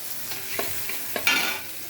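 Onion-garlic paste with turmeric and chilli powder sautéing in a pan, a quiet sizzle broken by a few sharp stirring scrapes, close by with no voices.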